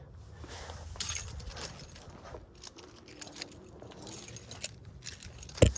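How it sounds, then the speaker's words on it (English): Keys jangle and clink in irregular bursts close by, light metallic rattles spread across a few seconds with soft handling noise between them, near a G35/G37 car. "I need my keys,"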